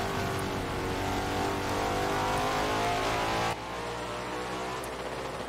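Race cars roar across the finish line on the last lap of a Thursday night championship race, a loud sustained engine drone that drops off suddenly partway through and continues at a lower, steadier level, with no speech.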